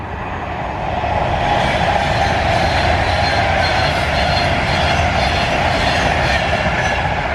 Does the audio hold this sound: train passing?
yes